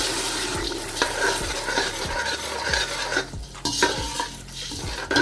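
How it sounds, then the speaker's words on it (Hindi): Noodle sauce with tomato paste is stirred and fried in a pan. A spoon scrapes and taps rhythmically against the pan, about once per second, over a steady sizzle, close and clear, with no talking. "और इसके बाद मैं इसको अच्छे से मिक्स करती हूँ।"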